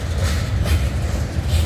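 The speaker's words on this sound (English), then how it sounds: "I didn't have time to get set up because the train is already approaching." A CN Rail train approaches on the Halton Subdivision in Burlington, Ontario, giving a steady low rumble with faint wheel clatter on top. The sound is fairly close and continuous, with no voices.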